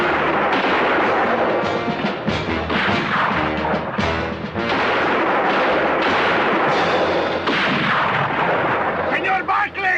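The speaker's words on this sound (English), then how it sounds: "Use the rifle." Rifle gunfire in a western TV episode, loud close shots cracking repeatedly in irregular bursts, some overlapping, with impacts and crashes and a few shouted voices mixed in.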